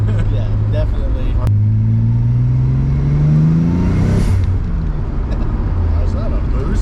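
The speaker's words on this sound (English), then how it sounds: "Is that a boost leak that I just heard?" A 2013 Dodge Dart accelerates from inside the cabin with a rising engine drone and a brief whooshing burst from a boost leak at loose intake clamps, under people talking.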